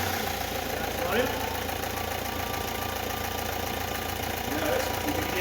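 A Vauxhall Zafira 1.7 diesel, with a low boost pressure fault, idles steadily, a fairly quiet, even mechanical clatter with a faint knocking rhythm that carries on unchanged throughout.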